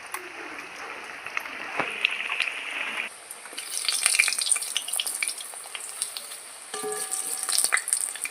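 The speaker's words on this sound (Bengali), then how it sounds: "বাদবাকি বড়াগুলো আমি ভেজে নেব" Fig (dumur) kofta fritters frying in oil, a continuous hissing sizzle that swells and dips with bursts of louder crackle, close and without talk.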